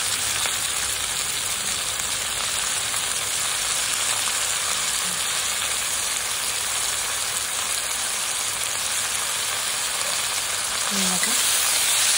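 Chopped radish greens tumble into a pan of reddish fried onions for a Maharashtrian mula bhaji, setting off a loud, steady sizzle that fills the whole stretch, with a brief stir near the end.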